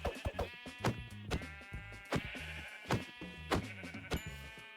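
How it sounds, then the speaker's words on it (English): Blocky Minecraft sheep bleat repeatedly in a hardcore survival game, their nasal calls coming in quick succession over a steady bed of game music, loud and close with no talk. "let's go get these sheep so I can get a bed"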